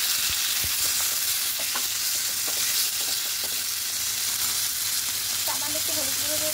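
Tomato and turmeric powder frying in a pan on a gas stove, a steady close sizzle with scattered crackles and spatters and a few scraping stirs toward the end, no talking.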